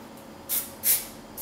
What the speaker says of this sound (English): I'm just going to spray this and kind of all over